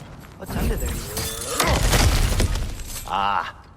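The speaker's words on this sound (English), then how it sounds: "Ah, back to smashing through things for fun and profit." In God of War Ragnarok, objects are smashed, giving a run of loud crashing and shattering impacts with scattered debris. A brief tonal sound follows near the end.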